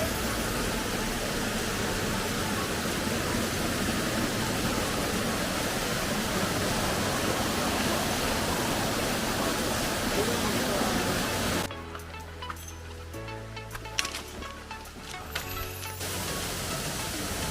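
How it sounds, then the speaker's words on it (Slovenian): Steady, loud roar of a waterfall in the Gačnik gorge, the lowest and first of its falls, filling the first twelve seconds before dropping to a softer rush with scattered splashes and knocks. "tole je pa še zadnji od slapov oziroma od spodaj, prvi slab."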